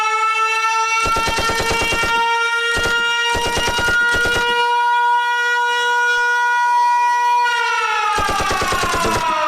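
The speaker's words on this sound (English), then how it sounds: "But I have a different siren." A siren effect from a soundboard plays a steady wailing tone for the whole stretch, loud and continuous, broken up by repeated bursts of rapid machine-gun-like stutter.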